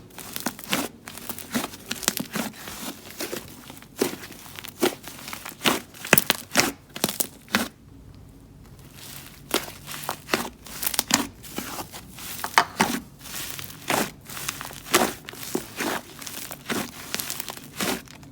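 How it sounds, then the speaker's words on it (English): Inflated DIY clay slime with a fluffy, sizzly texture gets squished and pressed, giving close, crackly crinkling bursts in an irregular rhythm, loud and continuous with a brief lull midway and no talk. "Once inflated, it turns into one of my favorite fluffy and sizzly textures."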